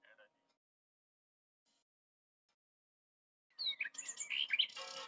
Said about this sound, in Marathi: bird singing green screen